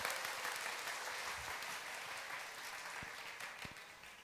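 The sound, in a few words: congregation applause for the youth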